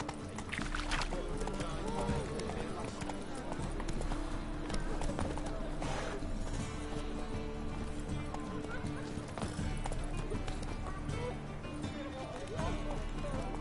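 Horse hooves clip-clop at a steady trot in The Witcher 3: Blood and Wine, running continuously beneath game music, ambient sound and occasional voices.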